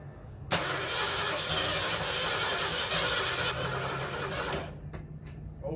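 A Mercury Cougar engine cranks with a continuous, fast whirring churn while the throttle is pumped, then cuts off and leaves a few faint clicks.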